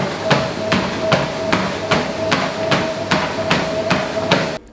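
Heavy running footfalls pound a treadmill belt in a steady rhythm of about two strikes per second, each a sharp thudding impact over the constant hum of the motor.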